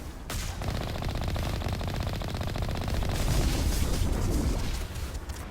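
Heavy Colossus gunfire in Mass Effect: a dense, loud, unbroken barrage of rapid shots and booming impacts rolling on for several seconds.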